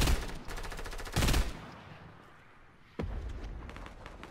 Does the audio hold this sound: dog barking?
no